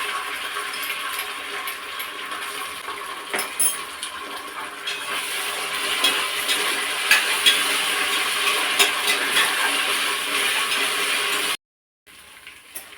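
Onions with ginger garlic paste sautéing in a pan for attukal kuzhambu, a steady sizzle and hiss with occasional spoon scrapes and clinks, close and continuous before cutting out near the end.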